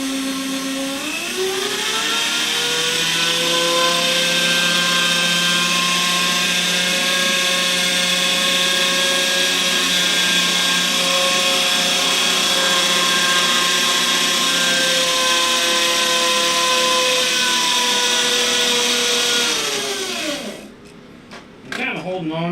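Power drill whirring steadily at high speed in a workshop while building a wooden box, loud and continuous for about twenty seconds with a drop in pitch as it winds down near the end.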